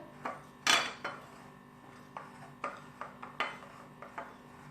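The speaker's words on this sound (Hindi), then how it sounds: "इनको ऐड करके अच्छे से मिक्स कर लिया" Dry spices being stirred into a mutton chop coating, heard as a run of close, short scraping and clinking knocks of a spoon against a bowl, irregular and light, with no voices.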